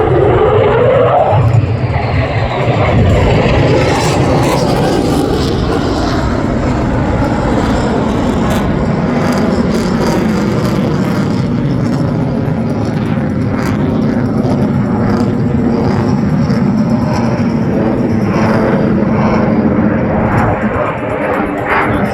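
An F-35A Lightning II jet flies at an airshow in Shellharbour, its roaring engine a loud, continuous rush that sweeps in pitch as it passes. A commentator talks over it throughout.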